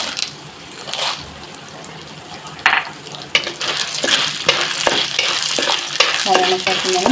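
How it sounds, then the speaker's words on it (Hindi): Corn kernels for popcorn are tipped into a hot pan and stirred. Some scattered rattles and scrapes come first, then a busier run of close stirring clatters over a soft hiss. "अब इसमें मक्का डाल रहे हैं।"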